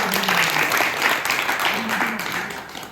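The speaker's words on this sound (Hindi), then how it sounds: "ताली मार दो" Hand clapping from a crowd at a devotional darbar gathering of worshippers, a dense, steady patter that runs throughout with voices calling out over it.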